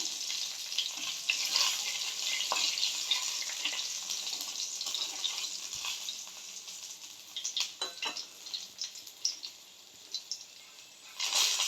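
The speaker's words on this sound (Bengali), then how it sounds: "এই তেলের মধ্যে আমি অল্প করে একটুখানি কালো জিরে ফোড়ন দিয়ে দিলাম" Black cumin (nigella seeds) sizzles in hot oil as a tempering, after pointed gourd pieces have been fried for potol posto; a steady, close, crackling hiss continues throughout, with a few sharper pops and stirring scrapes toward the end.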